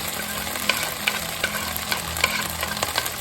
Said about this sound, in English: We don't want to brown our garlic, so let's start adding now our onions as well.